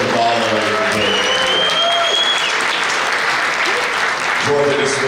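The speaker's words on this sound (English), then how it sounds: "Please, round of applause for the one and only George Chevalier." An audience applauds a boxer being introduced at a talk event, loud sustained clapping and cheering throughout with some voices and background tones mixed in.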